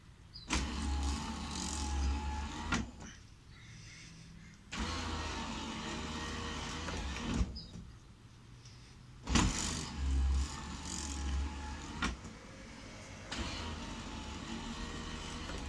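An electric sunroof on an air-cooled Porsche 911 runs its motor in several whirring stretches of two to three seconds each, separated by quiet gaps and clicks. The sound is close and moderately quiet inside the car.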